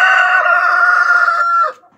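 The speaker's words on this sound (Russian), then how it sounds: "Брат кукарекнул." A rooster on a small backyard farm crows once, loud and close, a long sustained cock-a-doodle-doo that breaks off sharply at the end, with no talk over it.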